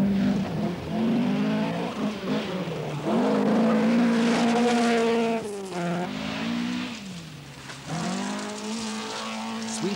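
An Audi Quattro rally car driven on a loose surface howls through rising and falling revs with distinct gear changes. The engine is loud and close, with no speech.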